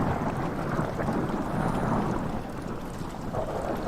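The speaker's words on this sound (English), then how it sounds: "It's raining." Rain and distant thunder in the horror game Amnesia: The Dark Descent, a steady dense wash of falling rain with low rumbling underneath, moderately quiet and continuous.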